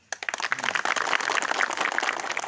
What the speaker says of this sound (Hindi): और उनके लिए तालियां बजाओ एक बार।